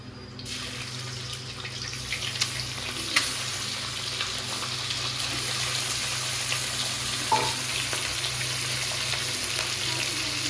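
Prawns frying with dry red chilli and cumin in hot oil, a loud steady sizzle with occasional stirring scrapes, close and continuous.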